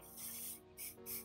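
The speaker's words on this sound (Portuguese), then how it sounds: "Vou usar o nosso spray" Hair spray hissing from an aerosol can while styling a low ponytail, three close, soft bursts of airy spray with short pauses between them.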